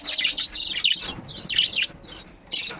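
Several pet budgies and cockatiels chirp and tweet busily at close range, high bright calls overlapping in quick bursts with brief pauses.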